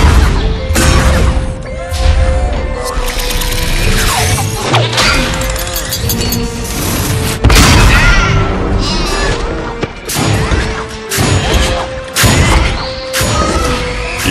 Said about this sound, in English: They've got cannons on those towers.